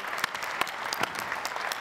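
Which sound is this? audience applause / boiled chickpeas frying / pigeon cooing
audience applause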